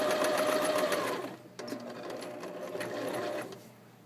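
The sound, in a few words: sewing machine stitching a gathered seam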